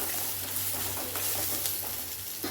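Large onions and chilies sauté in a pan for chutney, giving a steady broad sizzle with faint stirring and scraping throughout, close and fairly loud, with no voices.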